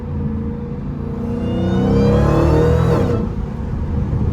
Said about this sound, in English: Can y'all hear the exhaust better?